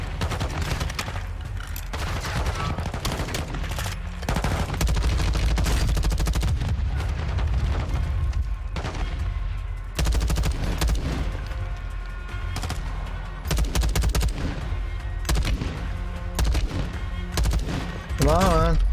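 Dense gunfire in a shooting video game: rapid bursts and scattered single shots crack almost nonstop, with heavy low booms, while a voice speaks briefly between volleys.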